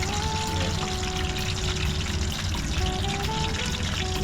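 Whole scorpionfish deep-fried in hot oil for karaage, a dense, continuous close-up sizzle and bubbling crackle with a faint high tone, with no talking.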